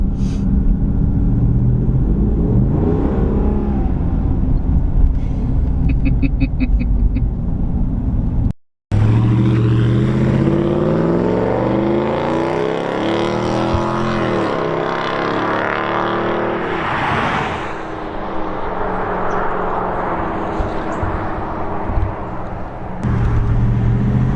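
A Ram 2500 truck engine idles and revs through a Borla S-Type single-in, single-out muffler, a steady low rumble with rising and falling revs and a brief cut partway through.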